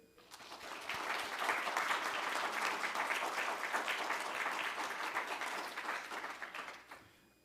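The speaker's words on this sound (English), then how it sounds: "I want to invite all our guests to join me in applauding our 2021 graduates that we're celebrating here today" Guests at a Doctor of Public Health commencement and hooding ceremony applaud the 2021 graduates, a broad, sustained clapping that swells quickly, holds steady for several seconds in a large room, then fades out.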